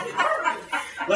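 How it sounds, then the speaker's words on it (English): A dog gives a few short, yappy barks and whimpering yips close by, in quick bursts over a busy indoor background. "my dog barking and everybody going crazy"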